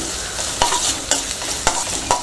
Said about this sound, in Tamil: வெங்காயம் போட்டு நல்லா வதக்கியாச்சு